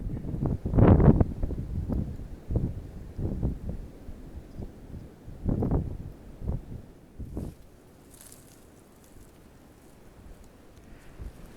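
Wind buffets the microphone in heavy, rumbling gusts on an Appalachian Trail hike near Clayton, Georgia, easing off midway and leaving a softer, steady whoosh outdoors.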